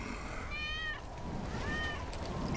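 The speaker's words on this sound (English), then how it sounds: "That's Wedge's cat." A cat meows twice in Final Fantasy 7 Remake, each a drawn-out call standing clearly above a steady rumbling background.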